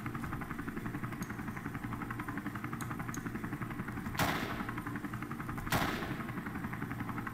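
Gunfire in Call of Duty on the Nintendo DS: two sharp shots stand out over a steady hum of game sound, with a few faint clicks between them.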